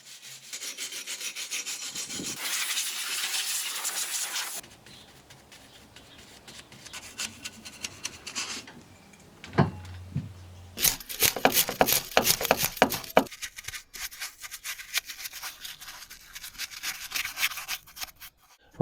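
Scraping and rasping away rust on the axle of a petrol-engine ATV being converted to battery power, harsh broadband rubbing in long bursts broken by quieter handling noises and a brief low hum.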